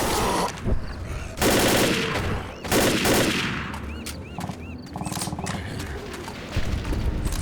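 Rapid bursts of gunfire in Left 4 Dead rattle in the background, with explosive booms and clattering effects layered throughout.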